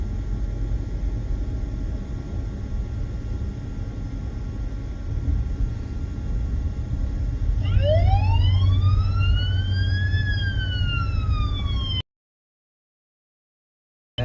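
A wailing police siren from a radio scanner rises and sweeps through its tone over steady low rumble, then cuts off abruptly into silence.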